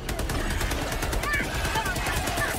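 Continuous gunfire in the Helldivers 2 video game, a steady rattling barrage that fills the short stretch with faint voices mixed in.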